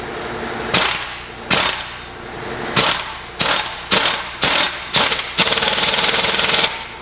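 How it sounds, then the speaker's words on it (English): A series of sharp metallic hammer taps seating a bearing into a steering knuckle, single strikes then a quick rapid burst, close and loud over a steady background hum. "if it gets a little out, just tap it with a hammer."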